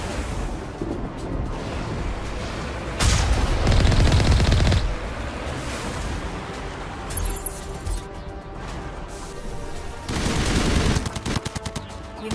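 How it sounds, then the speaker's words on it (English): Artillery and gunfire in a Mass Effect battle: sustained bursts of rapid shots and heavy booming salvos, loud and close, surging in two big waves with scattered single cracks between. "We must find a way to disable their artillery."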